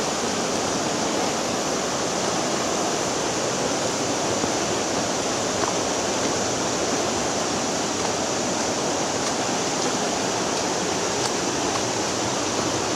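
Small river rushing through a narrow rocky canyon beside a steep trail on the way to La Jalda waterfall, a steady broadband roar of flowing water filling the scene continuously at close range with no voices.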